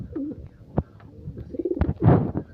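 Pigeons coo from a nest during an egg check, a pair of soft, throaty coos rising and falling close by, with short rustles and a brief knock between calls.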